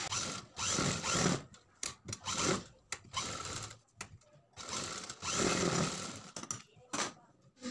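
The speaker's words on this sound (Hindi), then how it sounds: "तो इसमें हम सबसे पहले निशान पे सिलाई लगा लेते हैं" A sewing machine stitches along a marked line on a blouse back-neck design, running in short, fairly loud bursts separated by brief pauses.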